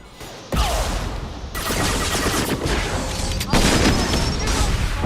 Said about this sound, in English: Fuck this rocket launcher shit.